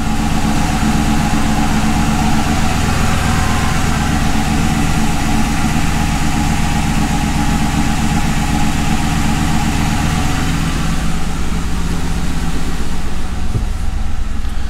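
The engine of a Ford Crown Victoria with a five-speed transmission swap runs loud and steady while the car sits raised, its rear wheels spinning in the air, making a constant low drone with no talk.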